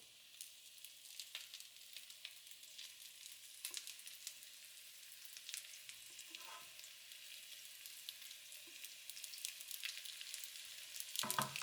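Food sizzles and fries steadily in oil in a pan, a continuous crackling hiss with a few small pops, fairly quiet and with no talking.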